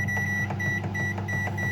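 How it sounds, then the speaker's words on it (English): A running microwave oven gives a steady low hum with a faint high tone, interrupted by a regular series of short beeps, about four or five evenly spaced across the stretch. "Microwave for 4 minutes."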